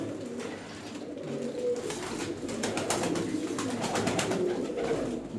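Pigeons coo continuously nearby, a layered, rolling murmur of soft throaty calls with no voices, kept by a Turkish pigeon seller.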